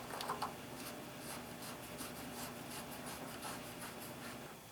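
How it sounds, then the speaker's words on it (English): Plumbing tape wrapped by hand around the threads of a plastic drain fitting on a hot water heater tank, giving a soft, steady close-up rubbing and crinkling with a few faint squeaks near the start. "I'm going to put on some plumbing tape just to help increase the seal around"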